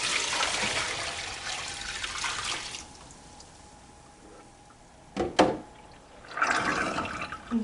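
Water is poured in, a splashing stream for about three seconds, then a quiet pause broken by two quick knocks, then another short burst of pouring near the end.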